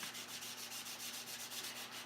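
Rhythmic, scratchy sanding strokes on an open bay, a quick back-and-forth rubbing pattern that holds an even pace throughout, with no talking.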